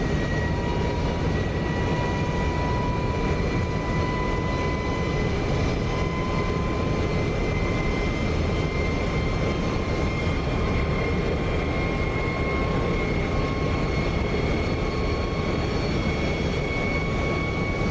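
An F-106 Delta Dart jet engine in the DCS flight simulator, just brought out of afterburner, gives a steady, loud, unbroken roar with a constant whining tone running through it, and no one speaks.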